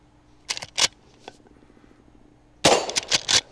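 Two bursts of sharp, close shots from a lever-action rifle loaded with .38 Special rounds, a double crack early on and a louder cluster of reports near the end, with a metallic action clack between them.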